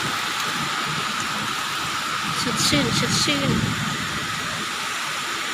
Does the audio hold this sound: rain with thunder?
yes